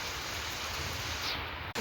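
Rain falling steadily, a dense even hiss of drops heard close and fairly loud throughout, ending with a brief abrupt cut.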